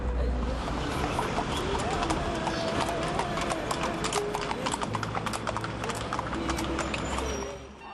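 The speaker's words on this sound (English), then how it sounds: "these horse and buggies were the only public transport" A horse-drawn buggy clip-clops along a street in Marrakesh, Morocco, with loud, close, rapid hoofbeats repeating steadily through the whole stretch over a busy outdoor background.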